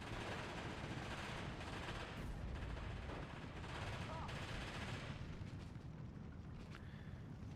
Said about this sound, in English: And now he has started artying me. It's got his first 83mm artillery here.